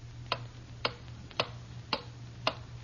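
A clock ticking as a sound effect in a 1940 radio advertisement, five sharp, evenly spaced ticks about half a second apart over a low steady hum.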